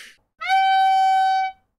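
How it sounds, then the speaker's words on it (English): Clarinet sustaining a long third-space B with all fingers down and the register key on, the bell blocked by a leg; one steady, pure, reedy note held about a second, close and clear after a brief breath. "We block the bell of our clarinet with our leg."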